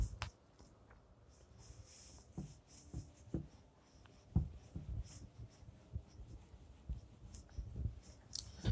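A maths question is written by hand with pen on paper. Soft scratchy strokes and light taps come in an irregular run, close by and quiet, with faint breathing in the background and no speech.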